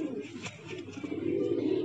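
Soft cooing from Madrasi pigeons close by, low murmuring calls repeating over a quiet background.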